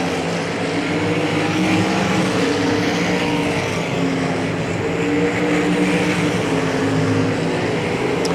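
Race cars roar around the Hagerstown Speedway dirt track, a loud, sustained engine drone with wavering pitch as cars push through the turns, steady and unbroken for the whole stretch.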